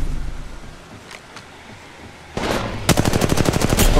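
Gunfire in Apex Legends: a few faint early shots, then a loud burst, followed by a rapid, evenly spaced automatic volley close up with no voices.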